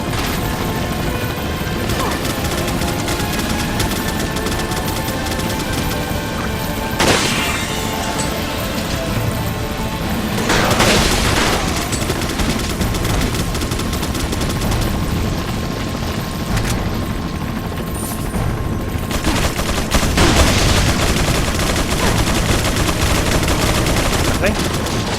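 Dense, sustained gunfire in Resident Evil 4 on PS4, loud and close, with repeated bursts and sharp cracks layered over a constant roar of game noise, plus a few heavier hits scattered throughout.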